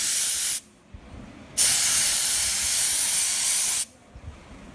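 A paint spray gun hisses in two loud, steady bursts separated by a short pause, with a third burst starting at the end.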